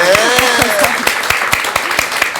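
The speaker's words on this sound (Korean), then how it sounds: "박수 한번 주세요" Audience applause at a live talk event, rapid clapping sustained under a sung or spoken voice layer, fairly loud and close throughout.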